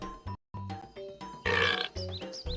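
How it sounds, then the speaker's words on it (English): Spyro 3 video game character letting out a burp amid chirpy in-game music and sound effects, a short gurgling belch standing out briefly at moderate volume. "He just burps."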